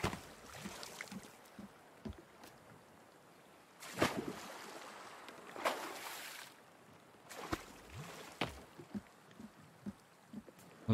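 Water sloshing and splashing around a boat moving past an island in the video game The Forest, with a steady wash and several louder surges of spray.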